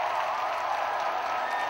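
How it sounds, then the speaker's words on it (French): A large crowd of young pilgrims gathered at Lourdes for an evening celebration breaks into dense, sustained applause that fills the whole moment evenly without any break. "des tonnerres d'applaudissements"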